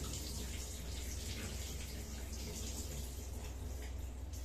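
Tap water runs steadily into a vessel while buttermilk is rinsed off churned butter in a home kitchen, a continuous close splashing hiss.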